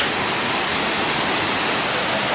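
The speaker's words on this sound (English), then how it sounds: "This little waterfall oasis right in the middle of downtown." A small waterfall in downtown Seattle sends a steady, even rush of falling water, close and constant, with no voices over it.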